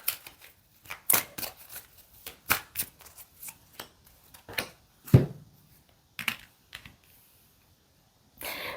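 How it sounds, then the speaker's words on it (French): Tarot cards riffled and tapped in irregular bursts, close and crisp, with sharp snaps as cards are squared and laid down on a table, pauses of near silence between, no talking. "moi, je vais poser deux cartes"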